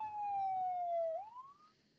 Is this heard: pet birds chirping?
no